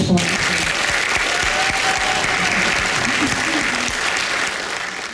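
Steady, dense applause from a school graduation crowd for the president, holding loud and even for the full length before easing slightly at the end.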